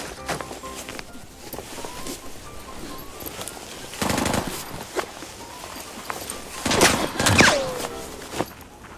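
Bursts of automatic gunfire from a bot in a first-person shooter, with the AK-12 rifle in play, crackle in short, loud volleys, the heaviest near the end, between quieter stretches of game noise.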